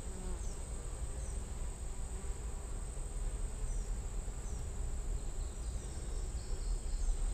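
A colony of honey bees hums inside the wall of an old barn, a dense, steady buzzing that holds at an even level throughout with no pauses and no talking.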